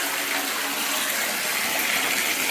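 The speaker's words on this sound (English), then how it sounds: "Zanu water, city council water in Harare" City council tap water in Harare runs in a steady, loud gushing hiss that stays constant throughout, close by and without talk.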